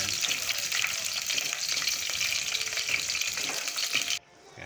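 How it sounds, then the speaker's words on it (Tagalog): Food sautés in a hot pan with a dense, steady frying sizzle and occasional stirring, loud and close, cutting off abruptly near the end to a quieter background. "Yan, pinangisa natin. Gisa natin yan."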